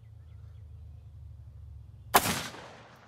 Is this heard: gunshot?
yes